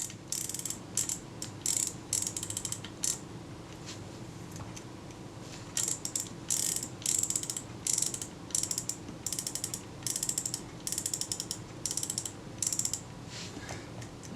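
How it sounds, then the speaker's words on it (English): Shutter of a Kodak Retina II type 142 camera being cocked repeatedly during a strip-down, a run of small, close ratcheting clicks and whirs in quick bursts with short pauses, faint and alone. "Cock the shutter."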